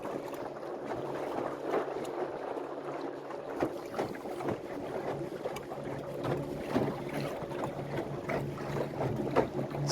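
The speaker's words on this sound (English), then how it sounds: "I'm very impressed with this electric motor and this battery" Small boat pushed along by an electric outboard motor on open water, a steady low hum with water wash and gusty wind buffeting the microphone throughout, no talking.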